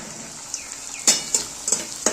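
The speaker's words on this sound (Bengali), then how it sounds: "মাছ ভেজে তেল আছে, ওই তেলের মধ্যে সবার প্রথমে আলু আর ফুলকপিটা ভেজে নেব" Potato and cauliflower pieces fry in a wok in leftover fish oil. A faint sizzle runs under a few sharp metallic scrapes and taps of a spatula on the wok. There is no talk.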